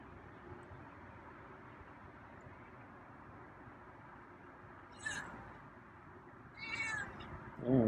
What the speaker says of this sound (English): Oh, there's a meow.